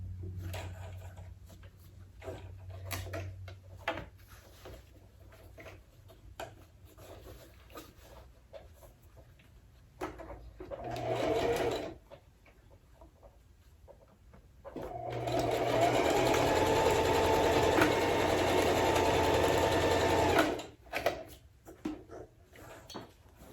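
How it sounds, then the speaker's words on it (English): Sewing machine running steady rows of stitching to secure a strap on a pocket pillow, with a brief burst near 11 s and a long, loud continuous run from about 15 to 20 s amid quieter handling noises. "And I'm going to do several rows of stitching to really secure this strap in place."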